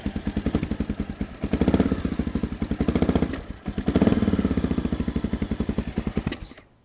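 A Honda XR650L motorcycle with carburetor trouble fires up and runs. The single-cylinder thump is steady and close, swelling twice with blips of the throttle and then cutting out at the end.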